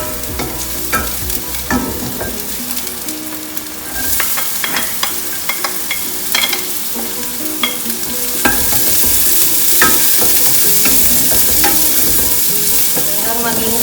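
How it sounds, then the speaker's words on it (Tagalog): Onion and garlic sauté in hot oil for beef kare-kare, a loud, close, continuous sizzle broken by frequent utensil clicks and scraping, growing fuller and hissier in the latter half. "Pag mainit na, pwede na natin isa yung sibuyas at bawang."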